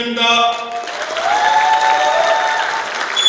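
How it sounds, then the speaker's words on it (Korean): Crowd applause at a book launch event for a former mayor, sustained clapping mixed with overlapping tonal sound, loud and continuous throughout. "큰 박수"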